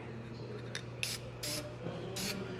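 Light bursts of aerosol spray paint hit a rusty car part, likely a seat frame from a 1994 Impala SS, after surface rust was scrubbed off; three or four short hissing passes, close and fairly quiet.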